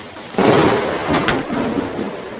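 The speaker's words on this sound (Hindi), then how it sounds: "बारिश भी बढ़ चुकी है" A sudden burst of heavy rain and rumbling noise hits loudly in a cartoon, with a couple of sharp cracks like nearby thunder partway through, then steady downpour continues.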